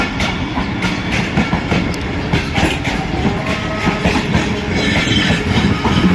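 A passenger express train rolls through a British-era railway station, a loud steady rumble with rhythmic clickety-clack of wheels over rail joints and faint squeals, heard up close with no talking.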